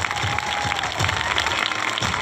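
A crowd at a science exhibition at a government ashram school claps continuously and fairly loudly, a dense wash of hands throughout, with a faint tone underneath.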